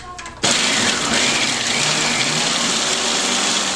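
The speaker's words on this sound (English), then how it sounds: "But first we're going to pulse this together." A food processor pulses cookie dough ingredients for sugar pecan snowball cookies with vanilla extract, its motor starting abruptly and whirring loud and steady, close up, with no talk over it.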